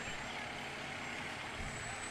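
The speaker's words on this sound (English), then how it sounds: "Large rescue truck." A large heavy rescue fire truck, a squad unit carrying hydraulic rescue tools, rolls past in a fireman's day parade, a steady loud engine rumble that holds throughout with crowd murmur underneath.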